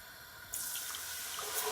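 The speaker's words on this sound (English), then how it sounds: "So now I'm gonna add my whole milk first." Whole milk is poured into a pan for baked mac and cheese, a soft steady liquid stream starting after a brief quiet moment and running close and faint to the end.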